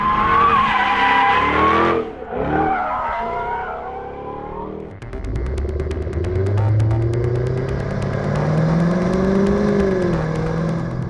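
A Jaguar F-Type P450 R-Dynamic revving hard on a racetrack with tires squealing, then the engine droning and shifting as the car accelerates at speed, loud and close.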